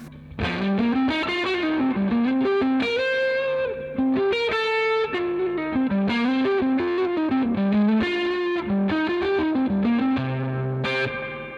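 Distorted electric guitar through an amp at under 1 watt plays a continuous melodic line with chords, close and loud, washed in reverb and chorus-like effects.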